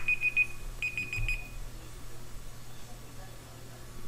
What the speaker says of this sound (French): Ça y est, son réveil il a sonné, il faut qu'il aille au boulot.